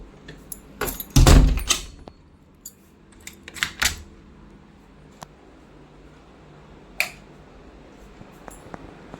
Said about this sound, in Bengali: এক হাতে গেট খুলছি কি অবস্থা বাইরের গেটও খুলে দিলাম